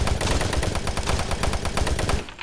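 Rapid SMG fire from the video game DOOM 3 rattles in a fast, even automatic burst lasting about two seconds, loud and close, then cuts off abruptly.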